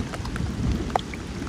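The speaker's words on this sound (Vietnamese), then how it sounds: "Mưa quá mưa" Heavy, steady rain pours down in a dense continuous patter, with a few louder drops splashing close by.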